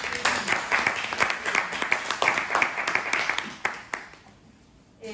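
Audience applause at an architecture, landscape and art lecture series, a dense run of close claps that tails off near the end, with a brief voice underneath.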